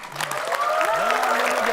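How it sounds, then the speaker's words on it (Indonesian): Studio audience clapping on an Indonesian TV quiz show, a continuous wash of applause with a voice and some tonal sounds layered over it. "Oke kita kasih tepuk tangan"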